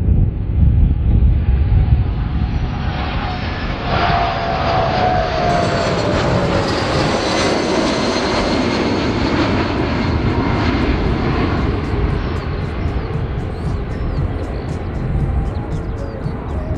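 Engines of a Slovak Government Airbus A319 jet at the 2022 Piešťany aviation festival roar loudly and steadily up close, a gliding whine sweeping across the sustained rumble amid wind buffeting.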